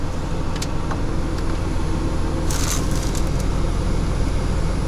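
A Planar diesel air heater runs at its maximum setting, a loud, steady mechanical hum and roar with rising revs and a few brief higher hissing bursts, heard alone without talk.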